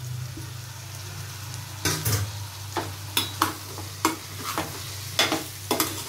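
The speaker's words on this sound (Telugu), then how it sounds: "టమాటాలు అరటికాయ ముక్కలు మొత్తం అంతా అలా మిక్స్ అయ్యేలాగా కలుపుకోవాలండి" Tomatoes and raw banana pieces are stirred in a pan for a curry over a soft, continuous sizzle, with a few sharp spoon-scraping strokes coming at uneven intervals in the second half.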